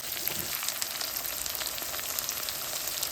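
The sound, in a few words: shallots and garlic sautéing for fish curry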